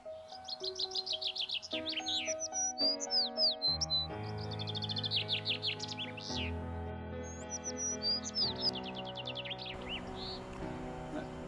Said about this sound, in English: That's a sparrow.